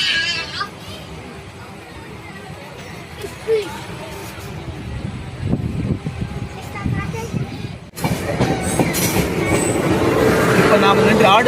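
A Cholan Express passenger train runs on the rails near Aduthurai station in Tamil Nadu, India, with a steady rumble and rattle of the wagons, wheel squeal and clickety-clack that grows louder near the end, along with faint background voices.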